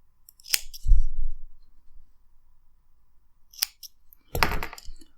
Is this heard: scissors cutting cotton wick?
yes